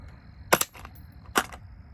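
An FRT-15L3 firearm dropped onto concrete, rock and dirt lands with two sharp, close clattering impacts about a second apart, each with a brief rattle, and no voices.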